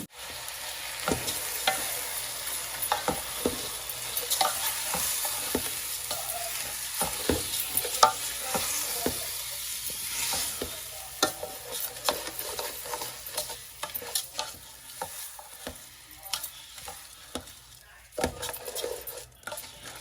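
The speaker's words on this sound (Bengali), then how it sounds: "5 থেকে 6 মিনিটের মতন আমি একটু নাড়াচাড়া করবো, কিন্তু ভালো করে বিরান করবো।" Rice is stirred with onions in a hot frying pan, a spoon scraping and clinking against the metal in irregular strokes over a steady sizzle, close and moderately loud, with no talk.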